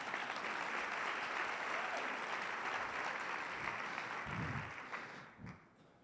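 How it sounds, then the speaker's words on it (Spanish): Sustained audience applause filling a talk hall, dense and steady for about four seconds before thinning out to a few scattered claps and a faint voice at the end. "Igual otro aplauso, por favor."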